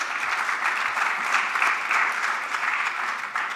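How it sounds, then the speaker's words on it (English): Sustained applause from a room full of attendees at a public advocate's forum, a dense, steady wash of many hands clapping close by, with no talking over it. "yes, we should all applaud that"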